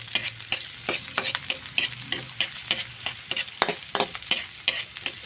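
Onion frying in a pan as the first step for creamy sopas, a close, busy sizzle with rapid stirring scrapes that pulse irregularly throughout, no voices over it.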